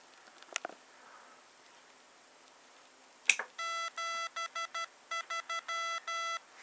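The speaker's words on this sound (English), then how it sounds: "That's the initial startup beeps." A couple of clicks, then a burst of electronic startup beeps from a Rockmite radio transceiver in quick succession, some short and some held, fairly loud in a quiet room.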